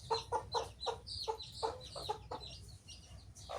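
Chickens cluck in a quick run of short calls, close by and fairly quiet, with a low background hum.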